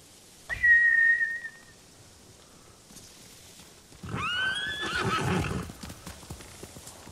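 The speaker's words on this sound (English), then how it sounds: "Bastards scared off the horses." Samurai horses in the video game Ghost of Tsushima give two whinnies, a short neigh followed by a longer, louder one with hoof clatter, then fade away.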